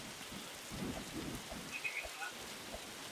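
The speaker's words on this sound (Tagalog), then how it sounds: "Ano ba itong umuulan na to? Ulan na naman." Steady rain falls with faint distant thunder rumbling underneath, a soft continuous wash of drops throughout.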